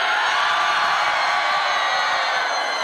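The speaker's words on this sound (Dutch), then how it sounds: "Ik wil nog één keer een oorverdovend gegil horen" A packed live concert crowd at a show screams in one loud, unbroken roar that holds steady from start to finish with no break.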